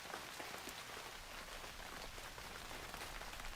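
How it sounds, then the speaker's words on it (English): Irish Coast rain ambience plays as steady, soft rainfall with dense patter of drops and a wash of coastal noise, constant and faint with no voices. "Maybe you can hear thunder and rain still too."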